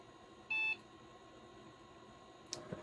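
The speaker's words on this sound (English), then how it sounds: "Beep." A single short electronic startup beep from an IBM SurePOS 4694-347 point-of-sale computer, clear and steady, over a faint background hum, followed by a soft click.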